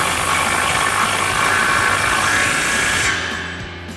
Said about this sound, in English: we'll grab our 36 mil socket again and run this back on